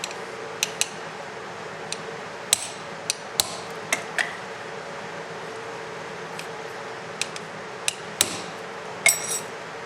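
A hammer strikes a soft metal rivet on a Porsche 914 throttle positioner, scattered sharp taps, a dozen or so irregular blows over a low steady hum, with a quick cluster near the end.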